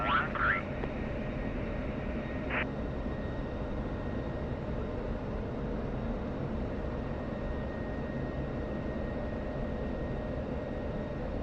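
Aircraft engine of a plane on landing approach in the DCS World flight simulator, a steady broadband drone held throughout with a couple of short tonal chirps near the start.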